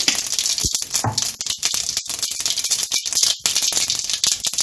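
Chana dal, mustard seeds and urad dal crackling and spluttering in hot oil in a pan, a dense continuous sizzle with rapid popping, loud and close, with no talking.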